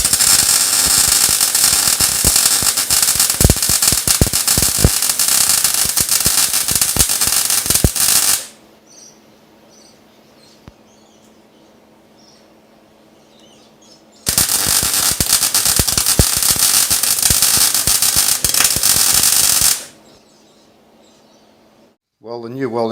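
Welding on the body of a Mk2 Ford Escort RS2000 under restoration: two loud bursts of dense, crackling arc noise, each about six seconds long, separated by a quiet pause with no speech.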